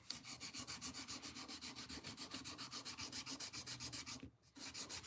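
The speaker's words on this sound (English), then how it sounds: "I'm just going to do a little oil, and that'll help keep the sandpaper cleaned out." Rapid, regular back-and-forth rasping of oiled sandpaper on a Case trapper knife blade, close and steady, with a brief pause near the end before resuming.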